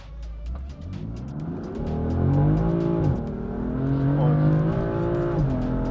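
A rear-wheel-drive Tesla accelerates on the road, its rising motor and tire whine swelling steadily louder over about six seconds and staying strong, with no talking.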